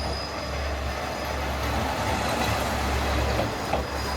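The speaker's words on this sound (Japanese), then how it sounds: "すれ違いの列車が豊岡方面から入線してきました。" A local diesel train pulls into a small rural station on the line toward Toyooka, giving a steady low rumble and rolling noise, continuous and fairly close with no talk over it.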